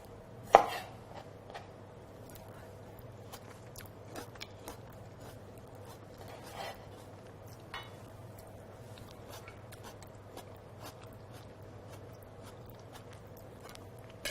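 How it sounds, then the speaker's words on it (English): A knife chopping tomatoes on a cutting board gives sparse, irregular taps, with one sharp louder cut near the start and softer knocks spread out after it. "since we're going to chop the tomatoes up anyway"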